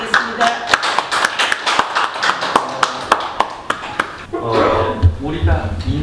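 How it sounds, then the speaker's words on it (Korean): At a special business-club lecture, a few audience members welcome the speaker with sparse, distinct hand claps ringing out one by one for about four seconds, then a voice begins talking. "박수로 부탁드리겠습니다"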